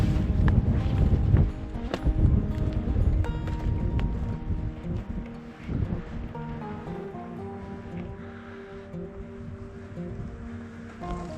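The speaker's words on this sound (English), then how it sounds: "Hopefully this wind isn't really bothering you." Wind buffets the microphone at a desert hilltop pueblo ruin, a loud rumbling roar that gusts and fades over the whole stretch, with scattered footsteps and small handling sounds.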